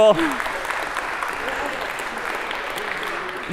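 A lecture hall audience at a computer science lecture applauds, a moderate steady patter of clapping lasting a few seconds, with a brief voice at the very start.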